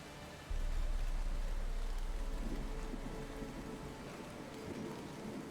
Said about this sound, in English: Is it still raining? Yes.